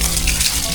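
Water pours onto garden planting soil to soak it, making a steady, loud rushing splash that continues without a break and has no talk over it.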